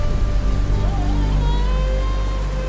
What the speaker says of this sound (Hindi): वर्षा तो थमने दीजिए।